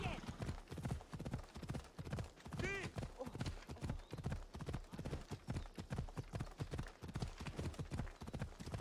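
Steady rhythmic horse hoofbeats clip-clop at a trotting pace throughout, with a brief horse whinny, under a person talking, in the video game Assassin's Creed Odyssey.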